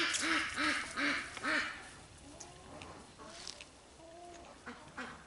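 Several ducks on a small farm give a quick run of loud, rhythmic quacks close by, followed by scattered softer quacks and calls.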